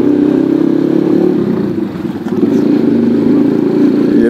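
A motorcycle engine runs loud and close, with a brief dip in its steady rumble midway before it rises again.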